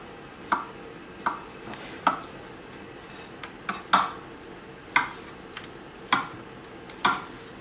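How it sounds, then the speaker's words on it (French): A knife chops washed mushrooms into small pieces on a board, about ten sharp, evenly spaced cuts at a steady rhythm, close and fairly faint against a quiet kitchen background, with no talk. "On va les couper dans des petits morceaux comme ça, de manière à ce que toute la garniture ait à peu près la même taille."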